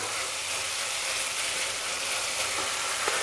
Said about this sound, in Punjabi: ਆਪਾਂ ਕੱਲੇ ਮਟਰਾਂ ਨੂੰ ਚਲਾਉਂਦੇ ਆ ਫਿਰ ਆਪਾਂ ਗਾਜਰ ਪਾਉਂਦੇ ਆ